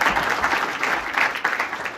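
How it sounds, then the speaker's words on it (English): A breakfast crowd at a county chamber of commerce gathering applauds new members with sustained, even clapping from many hands, moderately close and unbroken throughout. "We're going to do a lot of clapping today, so just keep it going."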